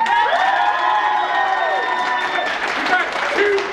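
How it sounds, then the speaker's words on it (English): A convention crowd at a live Family Feud game show applauds and cheers loudly and continuously, with shouted voices and whistles rising over the clapping. "Let's have a big round of applause."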